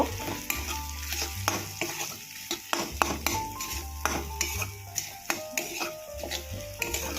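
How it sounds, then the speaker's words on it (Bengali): Chopped onions fry in oil over a medium flame for a spicy Bengali fish curry, with a steady sizzle broken by regular scraping clicks of a spatula stirring the pan, close and without talk. "কুচানো পেঁয়াজগুলো একটু ভালো করে ভেজে নেব।"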